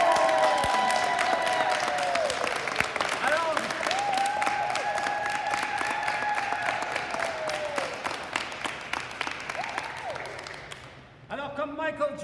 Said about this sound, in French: On l'applaudit, Diane!